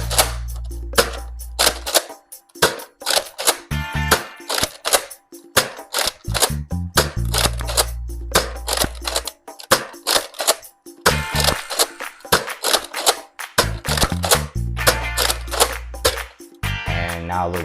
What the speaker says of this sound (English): let's get to a firing test. Starting off with the Nerf Retaliator.